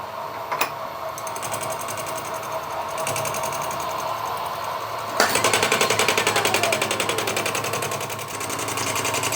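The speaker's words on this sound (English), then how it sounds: "Using a fly cutter this time." Fly cutter machining an aluminium-style inlet manifold on a milling machine, a loud continuous metallic chatter with rapid regular rhythmic ticks, steady and close, with a sharp clang near the start.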